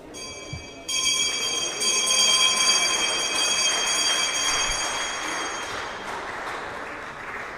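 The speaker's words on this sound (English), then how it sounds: "gets a chance to ring the bell" A bell rung at a stock exchange listing ceremony clangs loudly for several seconds with ringing tones, then fades out over crowd noise.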